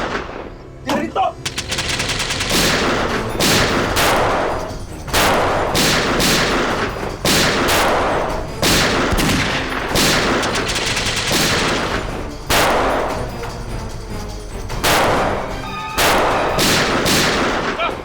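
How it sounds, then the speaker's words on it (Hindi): Gunfire in a Hindi TV crime drama, CID, comes as loud, rapid bursts of automatic fire, repeated volleys across the scene with short gaps between them, close and dominant. "गोली चला।"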